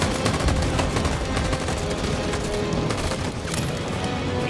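Rapid bursts of gunfire and explosions from a firefight in the video game Detroit: Become Human, loud and dense, crackling continuously without pause.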